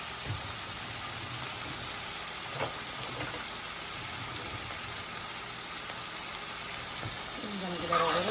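Collard greens with seasoning stirred in a sizzling pot, a continuous moderate frying hiss with soft clunks and scrapes of stirring, close by, and some talk.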